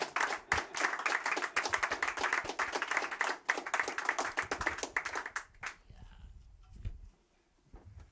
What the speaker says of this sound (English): Give her a hearty round of applause.